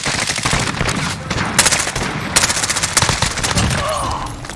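Sustained gunfire in a shooter video game, loud overlapping automatic bursts with sharp individual cracks throughout, close and continuous with brief lulls between volleys.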